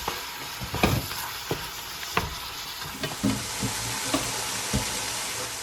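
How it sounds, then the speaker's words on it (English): Onion, scallion and seasoning sautéing in a pot for curry goat, a loud close sizzle with a spoon clacking and scraping at irregular moments. "we're going to saute that for about 3 minutes"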